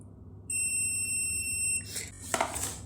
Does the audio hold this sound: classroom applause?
no